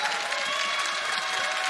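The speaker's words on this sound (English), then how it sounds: "That's the beautiful crowd." Steady, dense applause from a large crowd in a Berlin esports arena at a League of Legends match, filling the whole stretch evenly at a constant level.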